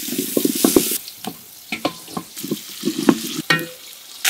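Onion and green chili fry in a pan for vegetable khichuri, short bursts of sizzle broken by clattering spatula strokes in an uneven rhythm, close and fairly loud.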